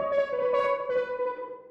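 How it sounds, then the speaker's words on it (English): Spaced-out piano from the Ping Kong contact instrument rings out as a sustained, shimmering tone with a few soft note onsets, smooth and airy, fading gently. "The top line that I use is a contact instrument called Ping Kong. It's spaced out piano."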